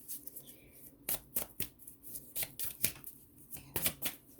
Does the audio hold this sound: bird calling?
no